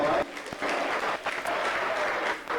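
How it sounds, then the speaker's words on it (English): Dense audience applause fills a school awards ceremony, steady and loud with a brief dip near the start, a mass of overlapping claps. "Round of applause again for Michaeli Shalmai."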